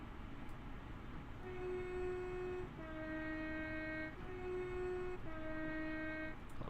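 A train horn in Train Sim World: Great Western Express blows four sustained two-tone blasts in a row, steady and even over a constant low rumble of the moving train.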